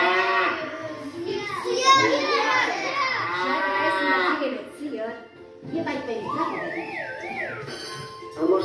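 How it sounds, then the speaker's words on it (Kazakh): A cow moos in long, loud drawn-out calls, followed by a voice and further lowing, as part of a children's animal-sound lesson. "Тамаша, бұл сиыр ғой."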